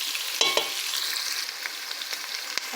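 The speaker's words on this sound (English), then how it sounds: "Okay, we just fry a bit this onion." Onion sizzling in a hot pan for a poutine dish, a continuous hiss broken by a few sharp clicks and scrapes of stirring, close and steady.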